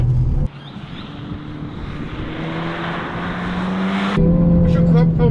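A Hyundai i20 N hot hatch with a 1.6-litre turbo engine and 6-speed manual, driven hard on a track: loud, steady engine roar with wind buffeting close to the microphone, then a sharp shift in tone near the end.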